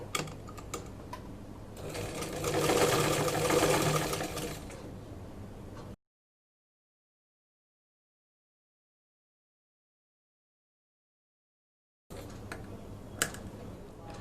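A sewing machine stitches folded collar fabric, running in one rapid whirring burst of about four seconds that swells and fades, followed by a long silence and faint handling clicks.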